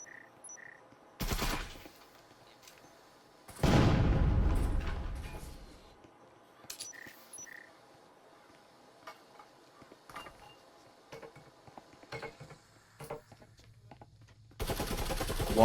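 In the video game Breachers, loud bursts of gunfire shoot through a wall, coming in sharp separated volleys, one long burst fading out, with quieter clicks and scattered shots in between.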